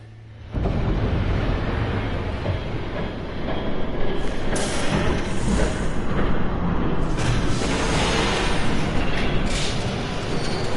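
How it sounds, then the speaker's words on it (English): A train rumbles past in a Batman video game, a loud, sustained roar of rolling wheels and rattling cars that holds steady for about ten seconds with no talk. "There's a train coming."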